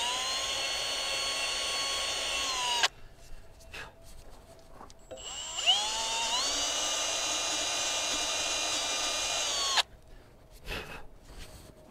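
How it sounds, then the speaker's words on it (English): A drill bit whines at high pitch while cleaning metal shavings from a hole in a Bobcat hydraulic cylinder, running in two long sustained bursts with a short pause between and brief rubbing scrapes after. "using a drill bit, I just like to clean out the hole there to get all the shavings and any extra metal"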